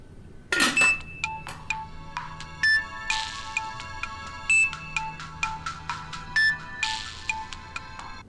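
A phone ringtone plays a bright, repeating electronic melody, each phrase returning in short rhythmic bursts, loud and close in a quiet room.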